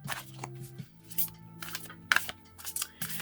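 A deck of Starcodes Astro Oracle cards is shuffled in quick, crisp riffling bursts with short pauses between, close and fairly quiet.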